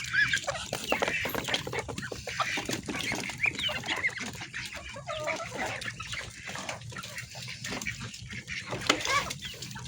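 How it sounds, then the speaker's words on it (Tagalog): Muscovy ducks calling on a farm, a steady chorus of raspy, hissing and clucking sounds from several birds close by, with no talking. "Ito na po yung mga pambenta natin na bibe."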